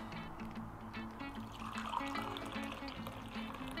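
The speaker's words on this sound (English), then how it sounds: "So next step is drain water, hot water. So here, peel this part. This pour into this mug cup." Hot water pours from an instant yakisoba cup's drain spout into a mug, a steady close liquid splash and trickle running throughout without speech.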